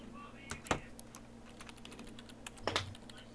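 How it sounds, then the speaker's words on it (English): Keyboard typing inside the video game Everlasting Summer: soft, faint clicks scattered through the stretch, with two louder clustered bursts of keystrokes standing out above a low steady hum. "I can constantly hear like typing and stuff like in the game"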